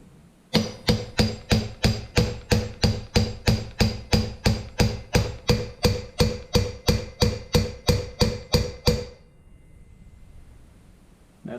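Steady, evenly spaced hammer blows drive a wheel bearing into the front wheel hub of a Suzuki SV650 motorcycle, about twenty ringing metallic strikes close up, then silence.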